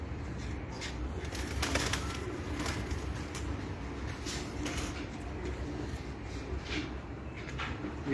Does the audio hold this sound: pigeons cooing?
yes